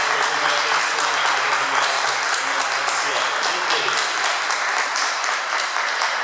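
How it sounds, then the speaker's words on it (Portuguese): A church congregation applauding, dense sustained clapping from many hands filling the room at a steady loud level, with voices mixed into the crowd noise throughout. "Dê uma linda salva de palmas para o Senhor."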